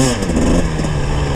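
Close, loud engine note from a two-stroke KTM or Husqvarna TPI dirt bike revving on the pipe in second gear, a continuous buzzing roar with fluctuating pitch.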